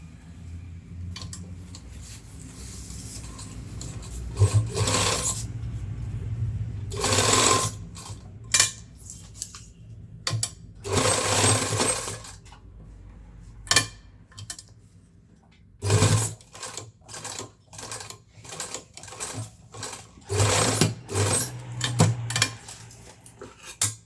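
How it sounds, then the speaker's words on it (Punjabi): A sewing machine stitches a zip onto a school coat, running in several short bursts of rapid stitching with pauses between them, close and fairly loud with no talking. "ਇੱਕ ਸਲਾਈ ਆਪਾਂ ਇਹਦੇ ਵੀ ਉੱਪਰ ਦੀ ਲਗਾਉਣੀ ਹੈ"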